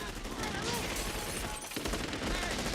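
Gunfire from a comedy movie, The Naked Gun 2½, plays as a continuous rattling fusillade mixed low behind other film sound, fairly faint and steady throughout.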